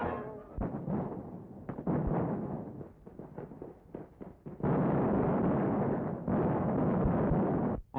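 Explosions from grenades and enemy shelling in archival wartime combat film, a run of muffled blasts and bursts followed by two long, loud roaring stretches of continuous heavy detonation noise close by.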